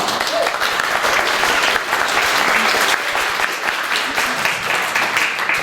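Dense, sustained audience applause at a choir concert, a full hall clapping loudly and steadily from start to finish.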